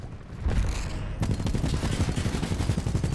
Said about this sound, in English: This gun's wildly good